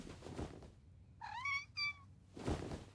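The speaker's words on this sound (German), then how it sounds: "Kätzchen 4, wo bist du" A foster kitten meowing indoors, two short close meows in quick succession, framed by soft rustling thumps before and after.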